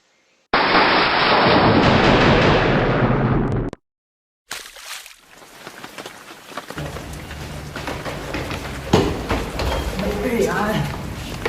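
Heavy rain pours outside, joined by a loud thunder crash at the start, then a sudden cut to quieter steady rainfall with scattered crackles; voices are faintly present.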